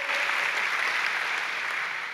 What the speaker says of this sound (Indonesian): Saudara dan saya tepuk tangan bagi Allah kita.